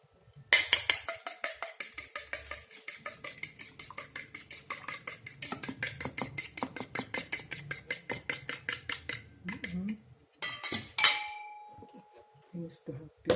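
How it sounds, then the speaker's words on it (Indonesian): Eggs being beaten in a bowl with a utensil, a fast, even series of light clinking taps that slows and stops near the end, close and soft. "telurnya ini kita kocok lepas aja"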